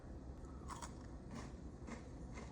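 Quiet, close crunching bites into a chocolate-coated biscuit stick, a few crisp snaps and chewing crackles spaced about half a second apart.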